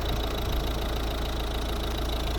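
A 1.6 litre Peugeot Citroën diesel engine in a 2010 Volvo V50 idles steadily, a constant low rumble with a faint mechanical knock, unchanging throughout and no talking.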